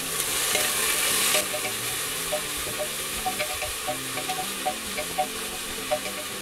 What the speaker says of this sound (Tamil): எடுத்து வச்சிருக்க பெரிய வெங்காயத்தை ஆட் பண்ணிக்கலாம். வெங்காயம் நல்லா வணங்கட்டும்.